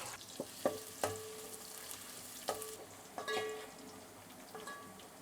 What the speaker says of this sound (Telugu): ఉల్లిగడ్డలన్నీ నూనెలో గోలినాయండి